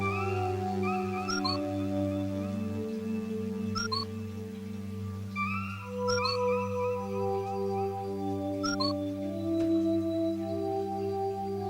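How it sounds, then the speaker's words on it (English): Pac-Man menu cue sounds from the Namco Museum video game: short chiming electronic blips repeating every couple of seconds over a steady synthesized music bed. "what that sound says is that Pac-Man is trying to tell you, hey, there's something that you could click here"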